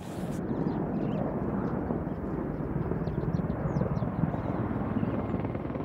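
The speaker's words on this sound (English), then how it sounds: "We can see that the chopper is approaching." A helicopter's dense rotor thump and engine roar fill the air continuously, loud and steady, with no voices.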